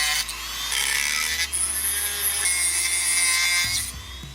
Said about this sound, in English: set up the cutting disc on my Dremel 3000 rotary tool